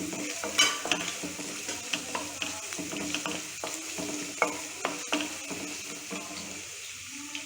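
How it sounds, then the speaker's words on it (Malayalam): Green chillies and breadfruit sautéing in a pan, with a steady broadband sizzle and frequent scraping stirs of a spoon against the pan throughout, close and moderately loud. "പച്ചമുളക്, ഇതെല്ലാമായിട്ടൊന്ന് നന്നായിട്ട് വഴറ്റി കൊടുക്കാം"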